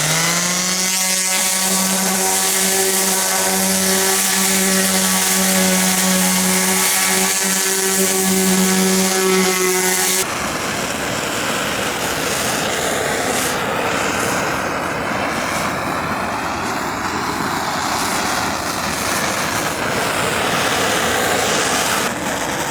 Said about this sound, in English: let's hit this with some sandpaper. I think this is 80 grit